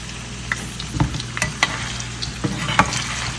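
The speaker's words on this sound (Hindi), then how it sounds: "इस ऑयल में जब ये फ्राई हो जाएंगी तो इनको मैं निकाल लूँगी" Taro root pieces fry in hot oil with a continuous bubbling sizzle, punctuated by irregular clinks and scrapes as the pieces are stirred and turned.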